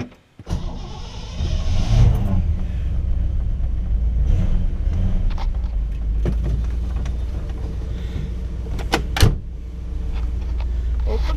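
A 1959 Chevrolet Bel Air starts and settles into a low steady engine rumble as it drives off, with a brief power window whir and a few clicks and thumps inside the car.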